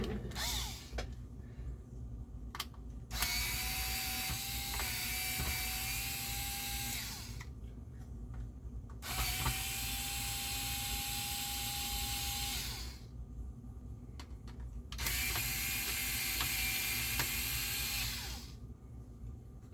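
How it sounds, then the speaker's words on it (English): A power screwdriver takes screws out of a Technics SA-EX310 amplifier in three long whirring bursts, each running about four seconds, with short pauses and small clicks between them and no speech. "to properly clean this, we're going to want to remove all the screws on there."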